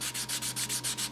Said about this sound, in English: this is a pretty coarse piece of sandpaper